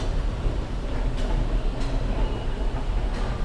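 A subway train in North York, Toronto, fills the space with a steady loud low rumble and roar, broken by a few faint high squeals, heard from on board or close by.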